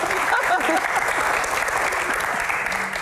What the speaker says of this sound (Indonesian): Senyum dong, tepuk tangan